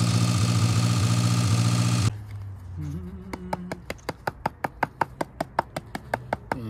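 An Austin/Morris van engine runs steadily off its fuel pump, then cuts out abruptly, followed by a rapid, regular ticking that carries on to the end.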